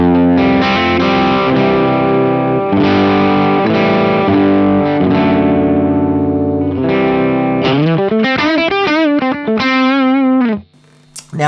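Electric guitar through a Matchless D-30 amp model with the bright cap engaged: loud, driven sustained chords, then a run of quick bent and vibrato-laden lead notes before a brief stop.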